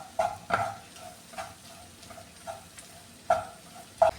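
Spice powders heat in a pan for an ivy gourd mezhukkupuratti stir-fry, a soft steady sizzle broken by irregular scraping stir strokes of the spoon against the pan.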